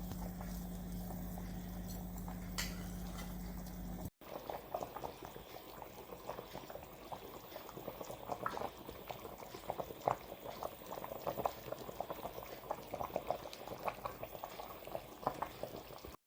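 Fish curry simmering in a cooking pot, a steady close bubbling with soft irregular pops and blips throughout, preceded by a brief stretch of low background hum before the boiling comes through clearly.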